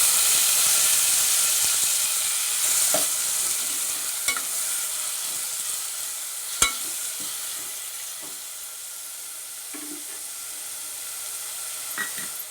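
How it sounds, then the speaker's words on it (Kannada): Pineapple simmering with a little water in a spiced pan, giving a steady soft sizzle and steamy hiss with a few sharp clinks of a spoon against the pan, close up and with no talking. "ಇದಕ್ಕೆ ಪೈನಾಪಲ್ನ ಹಾಕ್ಬಿಟ್ಟು ಸ್ವಲ್ಪ ನೀರು ಹಾಕಿ ಬೇಯೋಕ್ಕಿಡ್ತೀವಿ"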